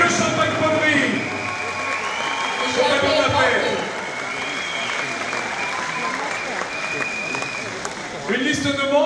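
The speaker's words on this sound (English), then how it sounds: "je vous demande de les applaudir collectivement au fur et à mesure que je déroule cette liste de beaux partenaires" Sustained applause from a large audience at the Bocuse d'Or culinary competition final in Lyon, steady and dense for the whole stretch, with an announcer's voice speaking over the clapping throughout.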